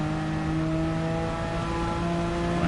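A Porsche Cup race car's engine in Gran Turismo 7, revved hard through a curve, holding a loud, steady, harmonic drone with a slight rise in pitch and no talk over it.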